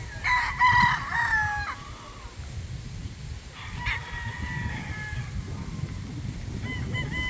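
Tethered gamecock stags crow twice, a long crow at the start and a second a few seconds later, over steady low rustling and background noise with no talk.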